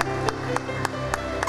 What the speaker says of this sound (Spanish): Dale un fuerte aplauso al Señor en esta noche